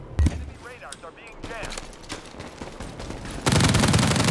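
Gunfire in a PUBG-style shooter where the player fires an M416 rifle: a sharp shot near the start, then a loud dense burst of rapid automatic fire toward the end, with talk and game noise between.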